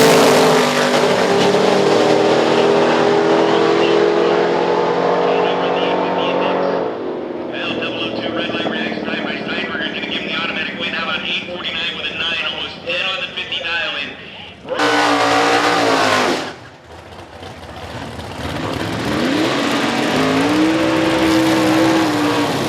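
Drag racing cars roar at a quarter-mile eliminations event, including a Camaro SS with a blown big block, with loud sustained engine noise, a sharp surge and drop of revs, and an announcer talking over it.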